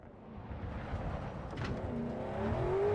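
A car in Cyberpunk 2077 drives fast with a low engine drone and road rumble, rising in pitch as it accelerates over about three seconds, a steady moderate roar with no voices.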